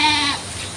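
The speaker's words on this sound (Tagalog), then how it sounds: "Sumasagot yung mga kambing." A single goat bleat rings out close and clear, a short wavering cry that cuts off quickly into quiet background.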